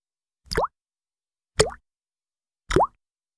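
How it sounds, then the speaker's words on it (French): Three distinct water drips, each a short resonant plop with a rising pitch, evenly spaced about a second apart against silence, like drops from a poorly closed tap. "C'est le bruit que fait la goutte d'eau en tombant."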